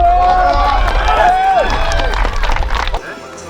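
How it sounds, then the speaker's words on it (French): Cheering crowd and applause at a box jump world record attempt, a loud continuous roar of clapping and shouting with a whistle-like tone rising over it, dropping off sharply near the end. "On l'applaudit."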